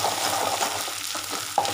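A spoon stirs mint and coriander pickle paste in a hot pan, giving a soft, steady sizzle with faint scraping, quiet and close, with no talking.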